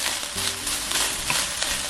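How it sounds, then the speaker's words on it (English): Chile colorado sizzles and crackles steadily in a hot pan, a dense, continuous frying hiss with no voices. "we are starting the frying process"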